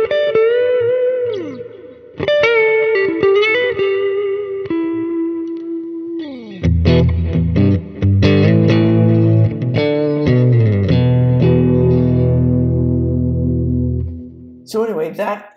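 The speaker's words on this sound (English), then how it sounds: "So it's a really nice kind of clean lead tone." Electric guitar played through a clean lead preset on a Quad Cortex modeler, single-note melodic lines with sustained ringing notes and chordal swells, effected with chorus and echo, loud and continuous with no voice.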